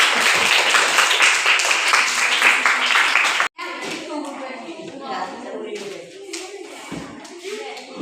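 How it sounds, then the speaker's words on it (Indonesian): Applause from a group in a classroom fills the first few seconds, dense and bright, then cuts off abruptly and a single voice begins speaking in Indonesian. "Tepuk tangan sekali lagi dong."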